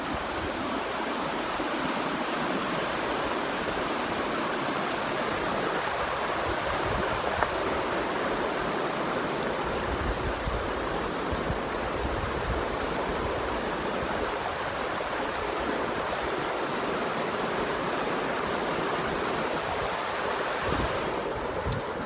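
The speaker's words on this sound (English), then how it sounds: "You got rapids right there." River rapids in Costa Rica rush in a steady, loud, broadband roar of churning water that continues unbroken and close for the whole stretch, with a little wind buffeting.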